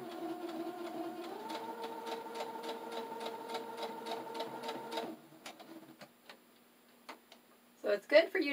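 Sewing machine stitching a fabric pouch through Velcro, running in a steady rapid rhythm for about five seconds before stopping, followed by a few faint clicks and handling noises.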